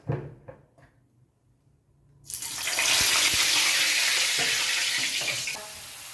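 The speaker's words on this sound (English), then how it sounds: "Time to fry my potatoes." Potatoes drop into hot oil for deep frying in a biryani kitchen, setting off a sudden loud, steady sizzle that fills the rest of the clip after a quiet start with faint kitchen clatter.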